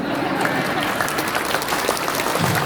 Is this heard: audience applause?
yes